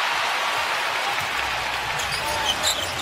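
A packed crowd roaring in an arena during the 2019 NBA Finals Game 4 between the Toronto Raptors and Golden State Warriors, a loud steady wash of cheering that fills the whole stretch, with a few sharper accents near the end.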